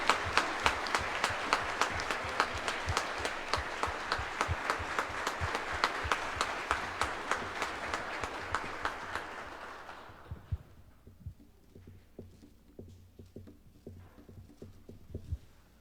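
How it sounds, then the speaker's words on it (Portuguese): A church congregation at Sunday Mass at the Igreja Matriz Santo Huberto applauds warmly in a dense, sustained burst that fades after about ten seconds into a few scattered, faint claps. "Uma salva de palmas."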